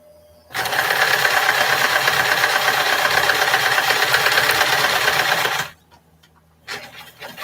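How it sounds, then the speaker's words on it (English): A sewing machine stitches fabric strips in a loud, fast, continuous mechanical whir close by for about five seconds, then stops, leaving a quiet room before a faint restart. "You just keep sewing your strips on."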